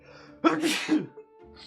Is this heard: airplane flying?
no